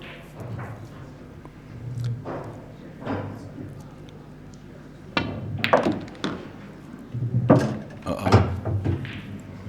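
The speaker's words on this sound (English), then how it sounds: "Showing a good cue power there. She screws back around the 2 cushions." In a professional pool match, a cue strikes the ball with sharp knocks, followed by balls thudding off the cushions and clicking together in scattered, irregular hits, under quiet commentary.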